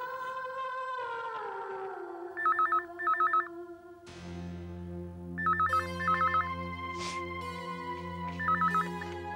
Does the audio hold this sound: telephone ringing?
yes